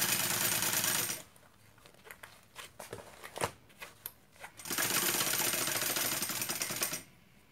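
Sewing machine stitching fabric for a simple everyday bag, running in two steady buzzing bursts of about a second and two and a half seconds, separated by a quieter stretch of clicks and handling taps.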